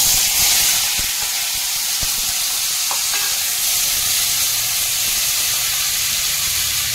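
Raw tomato going into hot oil in a pan, raising a loud, steady hiss and sizzle that fills the whole stretch with a few faint clicks underneath.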